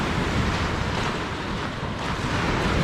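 Waves churning in the water at Fairport Harbor, Ohio, near the lighthouse, a steady broad wash of surf mixed with wind rumbling across the microphone, loud and continuous with no voices.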